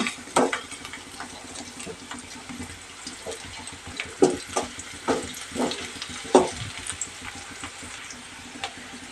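Roasted sesame seeds, blackened white sesame, being stirred in a frying pan while capsicum fry is cooked, with scraping spoon strokes and soft sizzling, several louder stirs midway, no talking.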